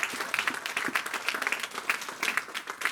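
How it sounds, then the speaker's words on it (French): A church congregation bursts into applause, a steady patter of many hands clapping at moderate distance for a few seconds, fairly quiet and unbroken. "Donnons une acclamation."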